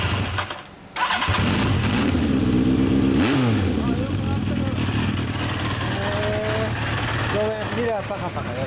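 A 1984 Suzuki GSX750S Katana, third type, fitted with a Midnight aftermarket muffler, starts up and settles into a loud, steady idle after a brief cranking pause, with people talking nearby over the engine.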